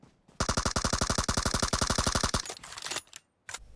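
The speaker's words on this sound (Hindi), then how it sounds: "ये MK14 वाला बंदा काफी बढ़िया MK14 चला रहा है यहाँ" MK14 rifle fire in PUBG Mobile, a rapid, evenly spaced burst of about twenty sharp, loud shots over two seconds, followed by a few scattered cracks and a brief pause.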